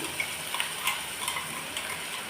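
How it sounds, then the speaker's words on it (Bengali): A paste of cashew, almond and melon seeds mixed with sour yogurt goes into hot oil in a fish pan for katla kalia and sizzles steadily and loudly up close, with faint stirring and no talk. "কাজু, আমন্ড, চারমগজের যে পেস্টটা আছে টক দই দিয়ে, সেটা এবার আমি মাছের ভেতরে তেলটার ভেতরে দিয়ে দিচ্ছি।"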